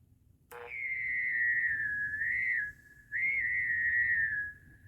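A homemade tripwire perimeter alarm built from a Radio Shack 160-in-1 electronics kit gives off a steady, thin electronic whistle that wavers slightly in pitch, cuts out briefly, then returns.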